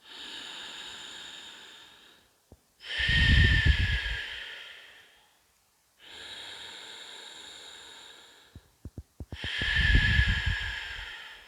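Three slow, deep breaths during a yoga session: long, airy inhales and exhales alternate, each breath several seconds long, close and clearly audible in an otherwise quiet room.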